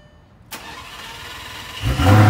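A Lamborghini engine cranks and fires at the end, its start rising loud and close over a quiet background with a sharp onset midway.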